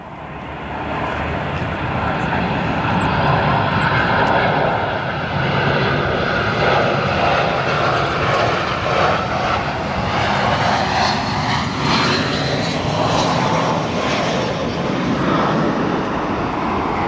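A Spirit Airlines A320 lands on runway 10 center, its engines a broad, steady roar that swells in and holds, with shifting tones as it passes nearby.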